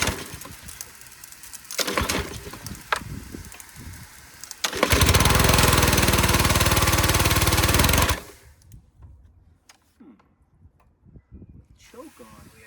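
A roadside-found pressure washer's engine catches and runs loudly for a few seconds, a rough steady roar with a hissing edge, then cuts out, preceded by pulling and clattering noises.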